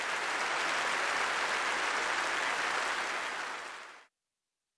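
Participants at a plenary meeting of the Workers' Party of Korea Central Committee give thunderous applause, a dense, uniform roar of clapping that holds steady, fades slightly, then cuts off abruptly near the end.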